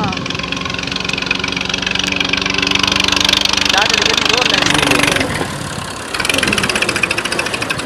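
A tractor pulling a trolley runs steadily and loudly close by, its engine droning with a mid-pitched knock, easing briefly around the fifth second before it picks up again.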